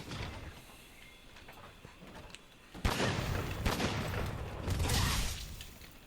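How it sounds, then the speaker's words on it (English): A gun lance in Monster Hunter World fires shells in sharp, loud explosive blasts, several bursts packed close together over a rumbling game background, with no voices. "The gun lance is a close-range weapon that also fires shells"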